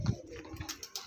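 A pigeon at a Domjur, Howrah bird sale coos once, low and close, followed by a few faint chirps in a brief quiet moment.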